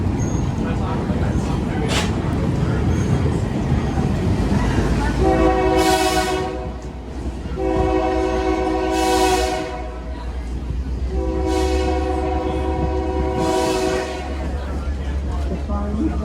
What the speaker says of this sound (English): We are on our train ride right now, guys.